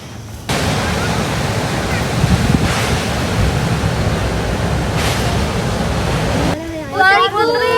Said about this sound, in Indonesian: berjalan ke tengah laut dalam ombak. Bersamaan dengan itu pula angin bertiup kencang